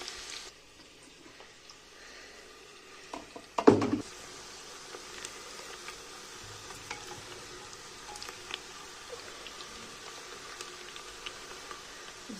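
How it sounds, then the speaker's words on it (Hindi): Spinach with garlic and salt frying in hot oil, a loud burst of sizzle as ingredients hit the pan, then a steady soft crackle continuing close by. "अब हम डालेंगे लहसुन और नमक और तब तक फ्राई करेंगे जब तक कि पालक ना वापस ऑयल नहीं छोड़ देती है"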